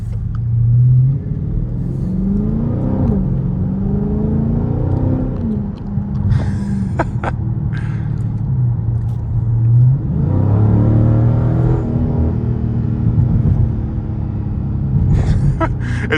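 A 2023 Dodge Charger Scat Pack engine rumbles steadily and rises in pitch in repeated swells as it accelerates. The sound is heard from inside the car at a strong, constant level, and a brief voice comes through near the end.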